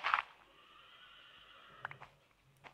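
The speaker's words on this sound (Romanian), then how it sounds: "Ce cai sunt afară?" A horse in a video game gives a sharp whinny at the start, followed by quieter snorts and faint hoof-like knocks over a near-silent background.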